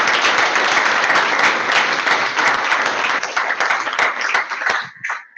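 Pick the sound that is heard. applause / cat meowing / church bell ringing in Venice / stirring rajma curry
applause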